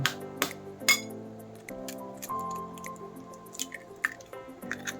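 Stuffing for stuffed jalapeño green peppers being mixed with an egg in a bowl, with soft wet squishing and a few sharp clinks of utensil against dish, close and fairly quiet, under a low background hum.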